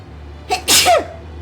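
A single sharp human sneeze, close and loud, with a short inhaled lead-in before the burst, then quiet background hum during a video game session.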